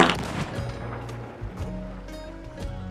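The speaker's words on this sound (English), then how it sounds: "Cannonball. Man, it gets a really good hang time." A cannon firing a cannonball in Sea of Thieves, a loud boom at the start that decays into ocean and ship ambience, with a few faint thuds after.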